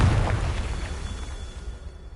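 A Confringo spell explosion in a video game bursts into a loud, deep boom that rumbles and slowly fades over a couple of seconds.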